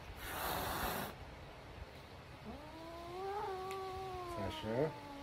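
A cat gives a rising, wavering caterwaul that climbs and bends in pitch for a couple of seconds, preceded by a burst of noisy commotion, with a louder strained yowl near the end.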